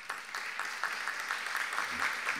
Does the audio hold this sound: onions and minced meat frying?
no